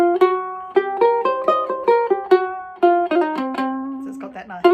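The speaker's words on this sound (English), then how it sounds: "we've got our C blues scale, which is the minor pentatonic scale with an extra note added in" Single notes are plucked one at a time on a ukulele, running up and down a C blues scale at a steady pace, clear and close with no voices.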